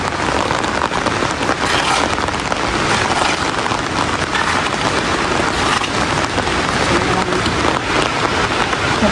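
A loud, unbroken downpour with thick pattering and hissing, close and constant, with no voices.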